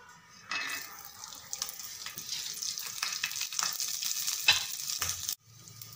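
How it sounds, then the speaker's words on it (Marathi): Ingredients fry in oil on a hot griddle for a chicken soup dish, with onions going golden, giving a steady close sizzle broken by stirring and scraping clatter, then a brief quieter stretch near the end. "इकडे थोडं तव्यावर तेल टाकून घ्यायचं आणि एक एक करून सर्व साहित्य हे फ्राय करून घ्यायचं आहे"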